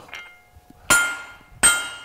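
A hammer strikes hot Inconel metal during forging: two loud, sharp ringing impacts about 0.7 seconds apart, each with a brief metallic decay, after a few faint clinks.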